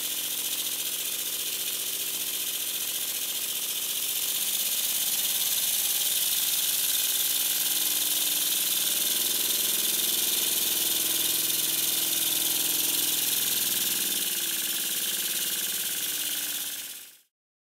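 A Stuart S50 model steam engine runs feebly, lacking power at the flywheel, giving a steady close hissing chuff with a light mechanical rattle that carries on evenly before cutting off abruptly.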